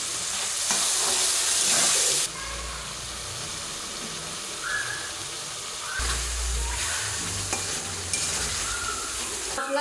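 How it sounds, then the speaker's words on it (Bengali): Spices with turmeric, salt, ginger, cumin, dried chilli, garlic and chopped tomato are sautéed in a pan, giving a continuous loud sizzle and hiss broken up by the scrape and clatter of stirring. "মশলা সুন্দর করে কষানো হয়ে গেছে"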